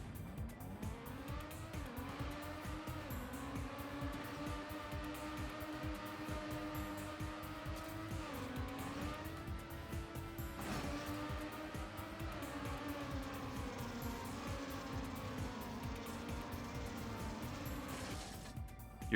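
A race car engine screams at full throttle in TrackMania United Forever, a steady loud high-revving whine with rising and falling pitch as it shifts through gears, sustained throughout with tire noise and no talk.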